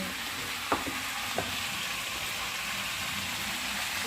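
Ginger, cumin and garlic spice paste frying in a pan while being stirred, a steady soft sizzle running throughout with a couple of brief spoon scrapes near the start.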